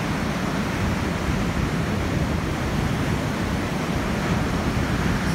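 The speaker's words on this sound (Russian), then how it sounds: "Ой, такие волны, обалдеть." Continuous roar of Black Sea waves breaking on shore at Lazarevskoye, Sochi, in January, a steady dense rush of surf with no voices.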